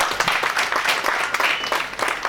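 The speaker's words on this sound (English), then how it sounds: "Please clap again." An audience at an African traditional medicine day celebration in Uganda claps in a short, close burst of brisk, uneven handclaps.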